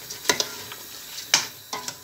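A spoon stirs goat and chicken curry in a pot, making a few short, sharp scrapes and clicks against the pot, spaced irregularly over two seconds.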